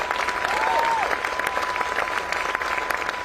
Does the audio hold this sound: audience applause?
yes